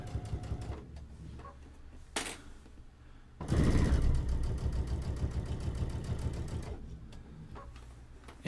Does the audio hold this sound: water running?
no